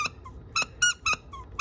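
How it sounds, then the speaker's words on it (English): A Baby Gund plush penguin toy squeaks as it is squeezed, giving a series of short, bright, high-pitched squeaks in an uneven rhythm, close up with no talking. "So when the children squeeze this one, it squeaks."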